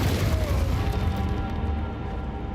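Enemies exploding in Path of Exile 2: a heavy low boom opens, followed by rumbling bursts that fade into a lingering low roar, with faint crackles on top.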